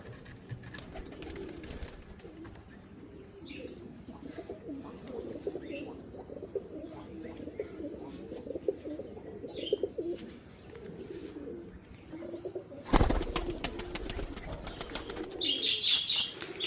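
High flyer pigeons coo softly nearby in low, throaty murmurs, with scattered chirps and a burst of wing flapping near the end.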